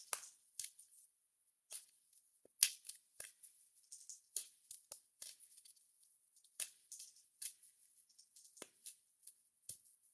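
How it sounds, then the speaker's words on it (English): Unicorn tarot cards are shuffled by hand, giving soft, crisp riffling bursts and light slaps in an irregular rhythm, quiet and close with pauses between, and no talking. "Let us shuffle these unicorn cards."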